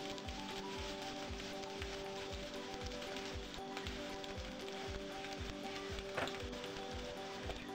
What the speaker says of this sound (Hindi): अब हम इसमें जीरा डालेंगे, अदरक और लहसुन काटे हुए हम इसमें डालेंगे